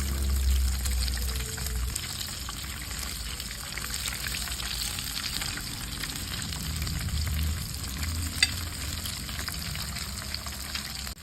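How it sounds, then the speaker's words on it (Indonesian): Food fries in hot oil with a steady, dense crackle and sizzle that continues at an even level throughout, no voices over it. "aku sudah panaskan minyak buat menggoreng"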